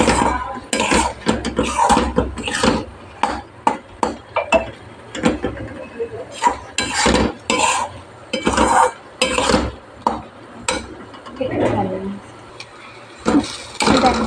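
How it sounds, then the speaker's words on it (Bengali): Bottle gourd leaf curry is stirred in a pan with turmeric, repeated clattering scrapes and knocks of a spoon against metal, loud and close, with talking in between. "নাড়াচাড়া করে নেব"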